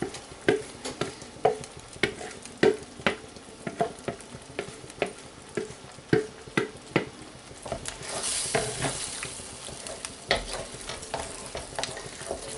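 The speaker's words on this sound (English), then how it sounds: "I'm also going to stir in the peas and the mushrooms." A spoon stirs peas and mushrooms through mushroom risotto in a pan with stock, rhythmic scraping strokes over a soft bubbling simmer, with a brief louder sizzling surge midway.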